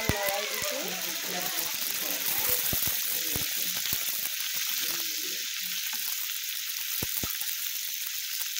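Jolokia chilli sizzles in hot oil in a pan for a cheese chilli garlic and onion dish, a steady close frying hiss broken by sharp clicks and scrapes of stirring.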